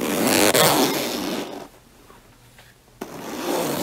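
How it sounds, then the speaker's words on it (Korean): Zipper pulled up on a winter jumper, close and loud: a long rasping zip, a pause, then a second quick zip at the end. "문제는 점퍼에 지퍼를 올리는 소리였는데요"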